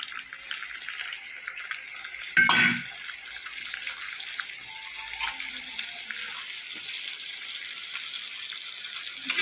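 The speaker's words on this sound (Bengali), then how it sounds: "এবার দেবো সেই মশলার জলটা।" Spice water pours into the pot of a prawn bhapa, a short, close splash that falls away into a soft, steady simmering sizzle.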